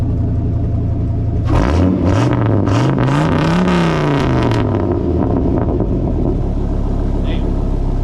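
A 1968 Mustang fitted with a V10 engine and new headers and full exhaust revs hard once, rising and falling over a low steady idle rumble, loud and close.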